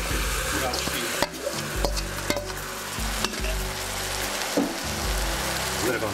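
Coarsely grated beetroot hits softened onion in a frying pan, giving a loud, continuous close sizzle with scraping stirs and a few sharp utensil knocks, without any voices.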